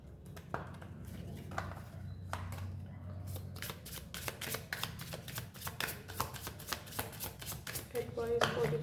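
Tarot cards being shuffled by hand at close range, a steady run of crisp riffling flicks that grows busier and louder toward the end, with soft talking underneath.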